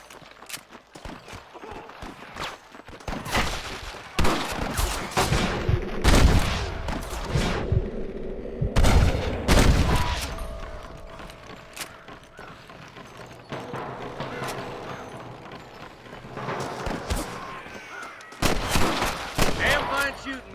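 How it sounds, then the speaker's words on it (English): Gunfire in the western video game Red Dead Redemption, loud bursts of rifle and pistol shots in a busy firefight, with hoofbeats and shouting voices mixed in. "Damn fine shooting, boys."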